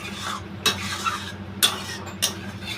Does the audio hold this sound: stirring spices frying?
yes